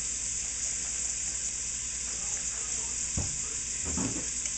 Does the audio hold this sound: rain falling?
no